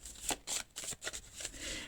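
Oracle cards being shuffled and drawn by hand, several close, crisp riffling bursts in an uneven rhythm with brief gaps, no talking.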